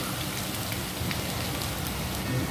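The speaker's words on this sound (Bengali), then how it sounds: "এবার আদা রসুনটা পেঁয়াজের সাথে খানিকক্ষণের জন্য একটু ভেজে নেব" Ginger, garlic and onion sizzle in hot oil with spices, a steady crackling hiss like light rain, alone and close up.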